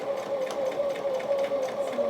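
Sewing machine stitching a small fabric heart, a quiet steady whir with fine rapid rhythmic ticking throughout, close and continuous.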